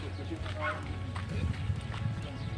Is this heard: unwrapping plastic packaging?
no